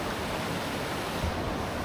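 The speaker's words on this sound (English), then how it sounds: "The stream is so strong." A strong stream in the Amazon rainforest of Manu National Park, Peru, rushes in a dense, continuous close-up roar of flowing water with no pauses.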